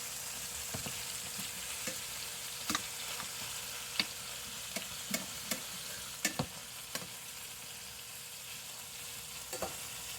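Chicken pieces fry in a pan with a steady, close hiss and sizzle, broken by scattered small pops and crackles throughout.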